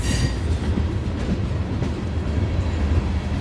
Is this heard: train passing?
yes